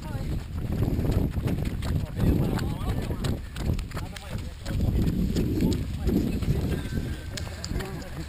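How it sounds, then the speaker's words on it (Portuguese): Horse hooves clip-clop in a steady rhythm along a course during a 24-hour running race, with people talking over the hoofbeats. "Olha o cavalo, vai."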